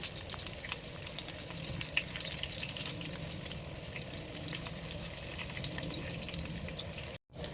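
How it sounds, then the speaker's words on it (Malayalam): Curry leaves and small shallots sauté in hot oil for a Kerala ash gourd buttermilk curry, a continuous crackling sizzle with occasional stirring, close and even throughout, cutting off briefly near the end. "ഇനി നമുക്ക് കറിവേപ്പിലയും അതുപോലെ തന്നെ ചെറിയുള്ളിയും ചേർത്ത് കൊടുക്കാം."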